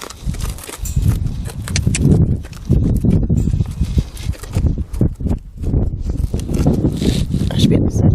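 A horse shifts its feet during a horsemanship session, with irregular hoof clops and scuffs on the ground close by, mixed with rustling and a person talking over it.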